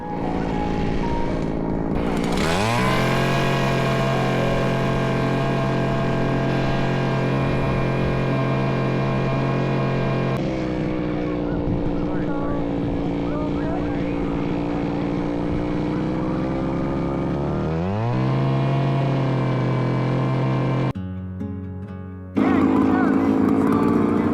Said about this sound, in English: Then suddenly a lady showed up with an automatic drill.